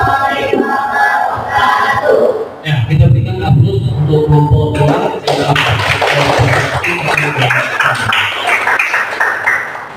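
A classroom audience claps and cheers for a group that has just finished a presentation at a junior high school, a burst of crowd applause with shouting that follows some talk and carries on to the end.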